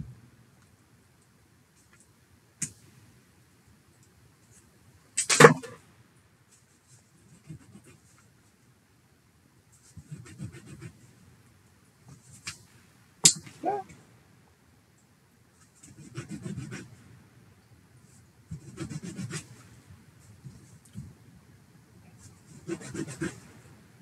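Small plastic parts twisted off the sprue of a Tamiya TT-02 radio-control car kit make faint, scattered snaps and soft rustles, separated by quiet pauses.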